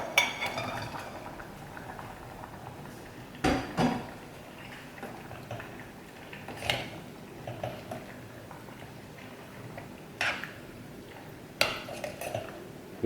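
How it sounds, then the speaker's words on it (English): Shrimp tipped into a pot of Kerala-style green mango curry, heard as a few scattered clinks and knocks of utensils against the pan over a low simmering background, fairly close, with no talking. "I'm going to add all the shrimp to the curry."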